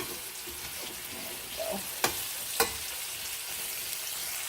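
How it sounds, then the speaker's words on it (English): Onions caramelizing in a frying pan give a steady, fairly faint hiss and crackle, with two sharp clicks of a utensil against the pan partway through. "caramelizing onions takes quite a bit of time"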